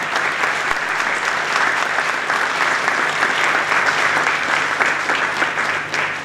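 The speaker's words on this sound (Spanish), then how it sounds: "Aplauso para ellos también." Loud, dense applause for veterans at a talk about the Malvinas war, a large crowd clapping continuously and evenly.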